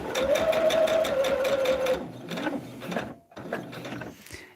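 A sewing machine stitches steadily along a marked line on a Circle the Geese medallion quilt pattern, its close, rhythmic mechanical whir running throughout with brief pauses near the end.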